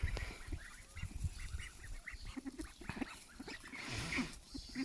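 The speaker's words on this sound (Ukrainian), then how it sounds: "Та гуси нахальні, вони наглі." Domestic geese let out to roam free honk and cackle repeatedly in short, overlapping calls, fairly faint at moderate distance with steady outdoor background.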